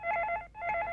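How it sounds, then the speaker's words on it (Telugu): A telephone rings in a Telugu movie scene, two clear bursts of warbling electronic tone separated by a brief pause, loud and close with no voices. "ఈ ఫోన్ నాకే ఉంటుంది నాన్న, ఓ ఫ్రెండ్ చేస్తాను."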